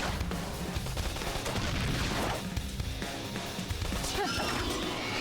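Dense bursts of gunfire in the video game Xenoblade Chronicles Definitive Edition crash and rattle continuously, loud and chaotic, with impacts and explosions layered over a constant roar.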